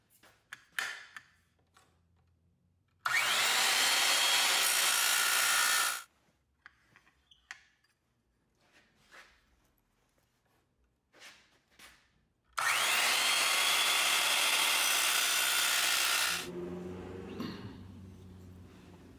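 Power tool scribing a line partway into 16 gauge sheet metal for a toolbox build: two loud, steady bursts of whining, hissing cutting noise, each lasting a few seconds, separated by quieter handling clatter.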